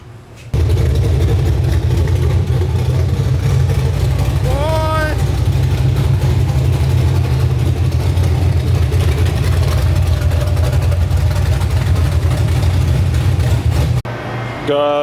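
A forged LS L33 V8 idles steadily in an E36 drift car, a loud, deep low rumble holding evenly for most of the stretch, with voices briefly over it and a short break near the end.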